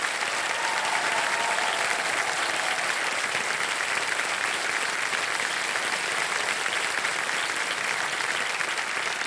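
A studio audience on the Kaun Banega Crorepati game show applauds loudly and steadily for about nine seconds as a dense, unbroken wash of clapping.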